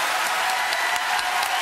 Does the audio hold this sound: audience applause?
yes